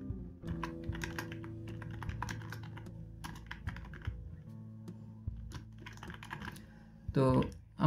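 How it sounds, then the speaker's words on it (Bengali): Someone types on a computer keyboard in quick irregular bursts of clicks, with a few louder key presses near the end. Steady background hum runs underneath. "পরবর্তী যে টেক্সটটা সেটা কিন্তু এখানে লিখতে পারবো।"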